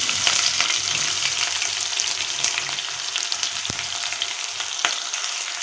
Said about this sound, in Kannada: ಇದನ್ನು ಇವಾಗ ಚೆನ್ನಾಗಿ ಗೋಲ್ಡನ್ ಬ್ರೌನ್ ಬರೋವರೆಗೂ ಹುರ್ಕೋತಾ ಇದ್ದೀನಿ